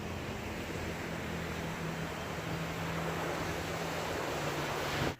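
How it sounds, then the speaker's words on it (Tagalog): Sea waves wash continuously onto a beach at Ternate, a broad roaring surf hiss with a faint low engine-like hum underneath, fairly steady before cutting off abruptly at the end. "Ayan, ang dagat natin."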